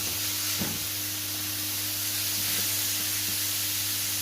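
A burger patty sizzles steadily in a hot pan just after being flipped, a continuous close hiss of frying with a few soft pops and scrapes, no talking.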